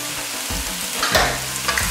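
Noodles with tofu and mushrooms crackle and sizzle in a hot pan, with stirring scrapes and a few louder clatters close by.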